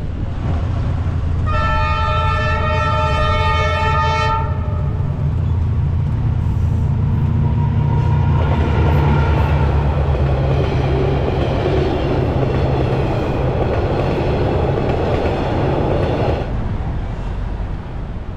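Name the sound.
train passing a level crossing in Vietnam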